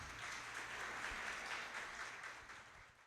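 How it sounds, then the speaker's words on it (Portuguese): An audience at a talk on depression, spiritism and science applauds to welcome a speaker, a continuous wash of many clapping hands that gradually fades toward the end. "palmas"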